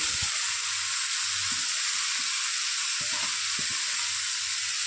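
Chopped banana stem and shrimp fry in a pan with a steady, close sizzling hiss, punctuated by light scrapes and clicks of stirring.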